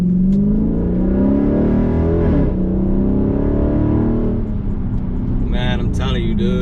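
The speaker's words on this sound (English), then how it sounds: "Let's see if I can do a little pull for y'all in traffic." A Dodge Challenger Scat Pack pulls hard in traffic, its engine note climbing steadily through a gear, dipping at a shift and rising again, loud and close from inside the cabin.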